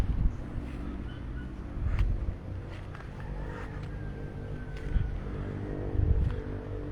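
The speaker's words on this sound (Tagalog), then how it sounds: "Mahangin lang." Steady wind rushing past on a farm, with low rumbling gusts swelling around two, five and six seconds; no voices.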